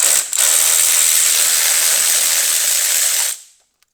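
Ratchet wrench removing bolts from a 2016 Honda F6B motorcycle being stripped for powder coating, a steady rapid clicking whir held for about three seconds before stopping.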